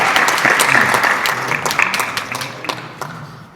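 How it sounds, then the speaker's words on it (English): An audience at a regional youth mental health conference applauds an MP, a dense burst of clapping that stays loud for a few seconds, then thins and fades toward the end. "So give him a round of applause"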